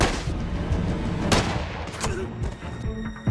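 A sharp gunshot cracks out over a busy, rumbling action-scene background, with another fainter report following shortly after.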